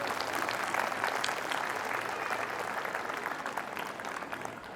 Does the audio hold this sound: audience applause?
yes